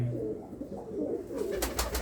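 Pigeons coo softly and repeatedly nearby, a low throaty burbling, followed by a brief burst of sharper, higher bird calls toward the end.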